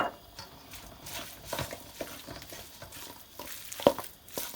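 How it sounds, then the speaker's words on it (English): Marinated lamb stirred in an oiled pot over medium heat: scattered scraping and clinking strokes of a utensil against the pot, irregular and close, over a faint sizzle, with one sharper knock near the end. "Just give this lamb another mix."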